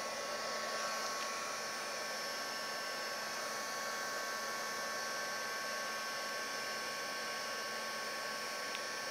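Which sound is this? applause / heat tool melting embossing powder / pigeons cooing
heat tool melting embossing powder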